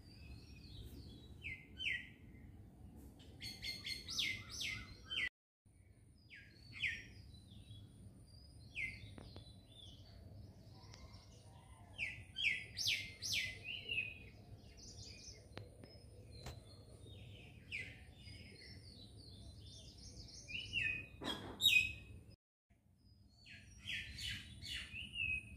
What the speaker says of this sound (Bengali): ভোরবেলা ঘুমে থেকে উঠে এই পাখির কিচির মিচির শুনতে আমার খুব ভালো